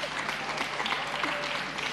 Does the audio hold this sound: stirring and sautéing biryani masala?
no